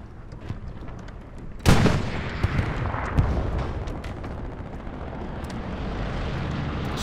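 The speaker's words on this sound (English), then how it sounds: "Explosion, detonation, right there." A sharp, loud detonation bursts out in the Hell Let Loose battlefield, followed by rolling rumble and scattered distant gunfire and booms.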